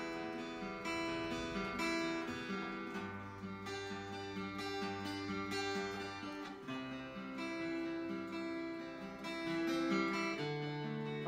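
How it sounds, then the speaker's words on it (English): Guitar picking pattern played with a flat pick, a flowing run of plucked chord notes with a held bass note partway through, close and steady in level with no voices. "or you could actually do it with your pick, and I call that pick picking."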